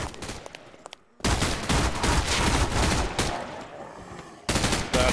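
Rapid automatic gunfire from guns in the Roblox zombie game Zombie Stories, loud dense bursts after a brief quiet gap, sustained for several seconds with a short pause before another burst.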